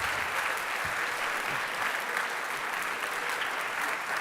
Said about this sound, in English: Can we get another round of applause for our attorneys here today?